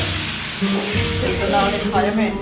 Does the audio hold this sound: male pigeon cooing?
no